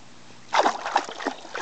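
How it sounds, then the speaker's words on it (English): A child splashing in a swimming pool, a burst of several quick, fairly quiet splashes and sloshes that starts halfway in and continues irregularly. "having fun splashing and playing and bouncing"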